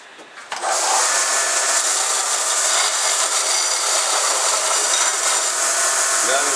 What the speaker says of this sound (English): What I got to do now is I just kind of got to deburr these a little bit.